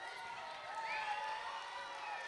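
A crowd of schoolchildren cheers and shouts together at an elementary school ribbon cutting ceremony, a steady, fairly loud wash of young voices sustained throughout.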